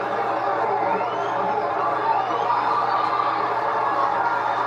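Boxing arena crowd cheering and roaring in a steady, dense wash of noise, loud and sustained without letup.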